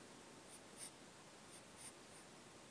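Pencil on paper while sketching a cat: faint, brief scratchy strokes come in short pairs, soft and close against a quiet room.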